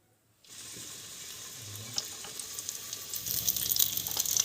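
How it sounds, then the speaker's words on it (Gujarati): Rajasthani baati are set into hot ghee in a pan and cook there, producing a steady, close sizzle and frying crackle that builds louder and busier toward the end. "ગેસ આપણે આમાં ઘી નાખ્યું છે, ઘી પડતું ફેરવી નાખવાનું ને આની અંદર આપણે બાટી રાખી દેવાની।"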